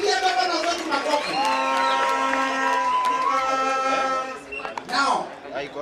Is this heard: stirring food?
no